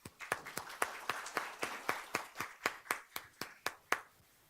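Audience at a book launch event in a Mumbai school hall clapping, a steady run of distinct hand claps at a fairly even rhythm, moderately close, with no talk over them.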